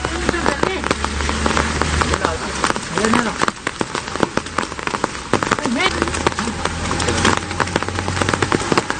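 Heavy monsoon rain pours down steadily during a storm, a dense close hiss of drops drumming on surfaces with scattered louder splats, continuous throughout with a low rumble underneath.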